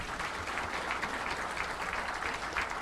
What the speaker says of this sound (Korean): 멋진 공연을 해주신 색스폰 동호회 여러분에게 다시 한번 큰 박수 부탁드립니다.